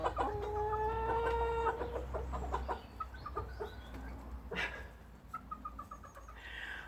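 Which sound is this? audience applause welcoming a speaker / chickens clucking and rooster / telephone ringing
chickens clucking and rooster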